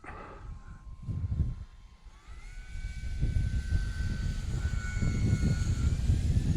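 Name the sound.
Timber X RC airplane flying and landing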